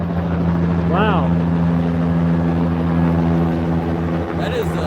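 A helicopter passes overhead at night, producing a loud, steady droning hum that fills the whole stretch, with brief voices talking over it.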